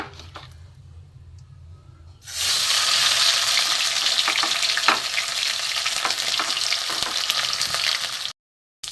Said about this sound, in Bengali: কড়ায় তেল দিয়েছি এবার এই ডিমগুলো আমি ভেজে নেবো